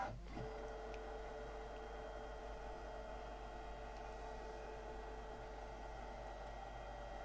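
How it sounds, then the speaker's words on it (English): Brother Luminaire XV embroidery machine slowly scanning a drawing, giving a steady, even mechanical whir with a constant hum throughout, close and moderately quiet, with no voices. "it's just going to scan now, very slowly"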